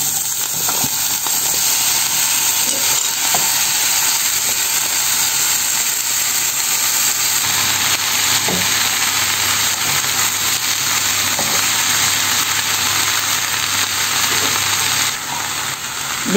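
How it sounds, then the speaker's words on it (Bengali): Sliced sweet pumpkin added to fried onions in hot oil, a loud continuous sizzle and steamy hiss filling the whole stretch without a break, no voices. "পেঁয়াজ ভাজার মধ্যে দিয়ে দেব"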